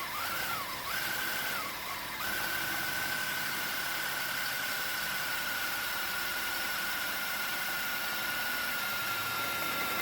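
A drill bores a mount hole through the steel rear suspension frame for a bolt-in 4-link suspension, a steady high-pitched whine running loud and unbroken after a couple of brief dips at the start, with low rumbling underneath.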